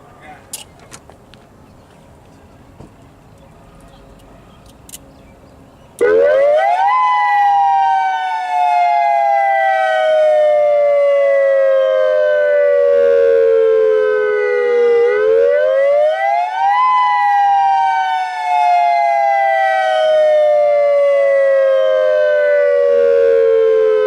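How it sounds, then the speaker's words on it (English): Modulator 6024B civil defense outdoor warning siren during a test at Salt Lake District Park, starting abruptly after a quiet lead-in and sounding very loud, with a slow wailing rise and fall repeating in long cycles. "This is a test of your outdoor warning system."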